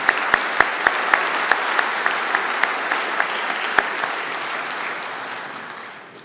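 Large audience applause for a university big band at a university convocation ceremony, with a few loud, sharp claps standing out over steady, dense clapping that slowly fades out.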